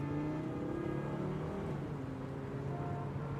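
A car engine hums steadily with a low, shifting drone, as if driving at moderate speed, close by and fairly quiet, with no voices.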